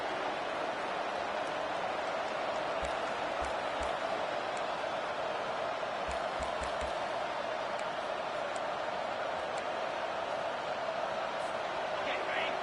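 A College Football 25 stadium crowd gives a steady, continuous roar throughout, dense and unchanging like broad wash of noise, with a few faint low thumps.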